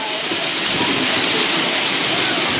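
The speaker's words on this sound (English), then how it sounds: "It is rain and hail." Heavy rain and hail pour down on the Appalachian Trail, a dense, loud, continuous hiss and patter with no breaks.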